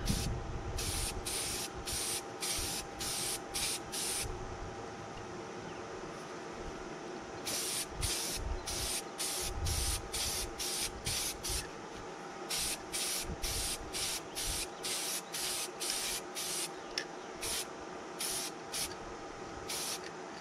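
Repeated bursts of aerosol spray paint coating a model aircraft pod part, short hissing blasts in a steady rhythm with brief gaps, close and fairly loud, with no talking.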